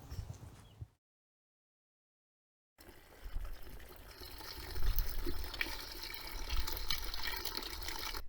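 Water pours steadily into a garden olla auto-fill reservoir, a loud continuous rushing that begins after a brief silence and grows fuller as it fills.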